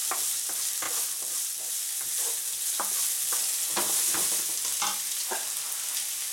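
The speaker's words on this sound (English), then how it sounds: "we fry the onion until they start to get shiny" Onions frying in a pan: a steady broadband sizzle throughout, punctuated by repeated scraping and clacking strokes of a spoon stirring, close and fairly loud, with no talking.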